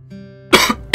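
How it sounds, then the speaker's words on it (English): A person lets out a couple of sharp, close coughs, two abrupt bursts after a brief steady background tone. "I seem to have a bit of a bad cough going on."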